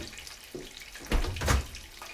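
A small splash of water, about a teaspoon, is poured onto cooked rice, two brief close trickles over a quiet kitchen background.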